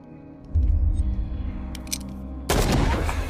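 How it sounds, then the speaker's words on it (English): A gunshot in the horror video game Call of Cthulhu, preceded by a low rumbling drone and a few faint clicks, then one sharp loud blast with a lingering booming tail near the end. "I'm gonna shoot you."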